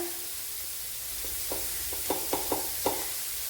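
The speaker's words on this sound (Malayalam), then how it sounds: "മല്ലിപ്പൊടി ഇട്ട് കൊടുക്കാം" Coriander powder hits a hot frying pan with a steady soft sizzle, and several quick scraping stirs land in a loose rhythm near the end, close and moderately loud with no voices.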